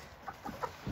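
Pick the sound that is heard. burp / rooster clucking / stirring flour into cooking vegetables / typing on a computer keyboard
rooster clucking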